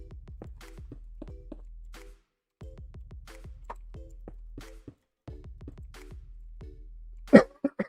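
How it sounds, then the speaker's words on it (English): A person coughs sharply several times near the end, loud and close, after a stretch of quiet repetitive clicking from keyboard or mouse use. "Forgive the cough in your ear if you're wearing headphones."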